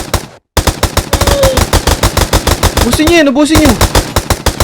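Rapid, loud machine-gun-style bursts from guns in Minecraft fire in a dense, relentless rhythm after a brief silence, while someone talks excitedly over the shooting.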